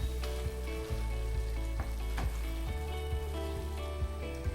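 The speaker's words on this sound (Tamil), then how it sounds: "இதில் அரிசி சேர்த்துட்டு ஒரு நிமிஷம் அப்படியே கலந்து விட்டுடலாம் இந்த சாந்தோட" Soaked basmati rice fries in a mint and coriander paste, a loud continuous sizzle with rhythmic scraping strokes of a spoon stirring the pan, close up and without talk.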